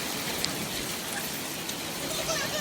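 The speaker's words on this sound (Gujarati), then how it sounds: "જો કેટલા બધા કરા પડી ગયા એટલી વારમાં." Heavy rain pours steadily during a sudden storm that also brings hail, a dense, continuous hiss of drops on surfaces with no distinct pauses, close and fairly loud throughout.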